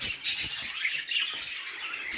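A budgerigar squawks harshly several times up close, rough raspy calls in quick succession, with no talking.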